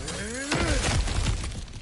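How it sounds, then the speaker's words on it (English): Objects smashed apart in the God of War Ragnarok video game, a sharp crashing shatter with clattering debris after a brief tonal sound, loud and close. "back to smashing through things for fun and profit"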